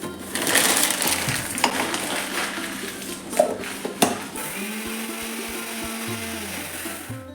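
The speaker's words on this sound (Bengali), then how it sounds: "তবে আজকে মিক্সিতে বানিয়ে নেব" An electric mixer grinder grinds a spice mix at home, a dense, steady whirring roar with rattling and clunks that changes pitch midway as the motor shifts, with no talk.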